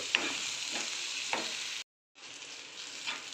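A misal mixture is stirred and fried in a pan for a Maharashtrian misal pav, with soft steady sizzling and a few scraping strokes, broken by a brief silent gap before the frying resumes.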